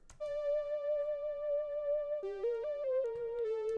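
A buzzy, sustained fuzz-tone electric guitar holds one long note, then steps through several short notes in a simple synth-like melodic line, with no voices.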